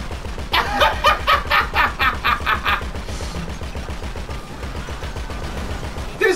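Gunfire in the GTA video game: a rapid, evenly spaced string of about nine sharp shots, then a quieter stretch of low background noise.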